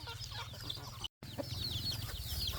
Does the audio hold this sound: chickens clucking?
yes